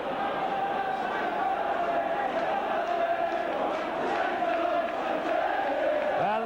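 A full-house rugby league crowd roars steadily for St Helens against Wigan at Knowsley Road, a broad distant swell of cheering under a commentator's continuous voice.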